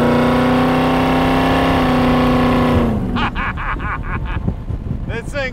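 A 1931 Ford street rod with side pipes and orange paint rumbles loudly and steadily while driving, its deep exhaust note holding for about three seconds before easing off into rougher, fluttering engine and road noise.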